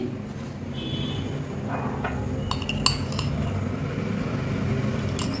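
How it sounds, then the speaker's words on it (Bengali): Yogurt (curd) being whisked in a bowl for a Bengali fish curry, with a steady scraping and clinking of a spoon against the bowl, close and continuous, with a few sharper metallic taps partway through. "এবার আমি এই বাটিতে একটু দই গুলে নেব, একটু দই ফেটিয়ে নিচ্ছি"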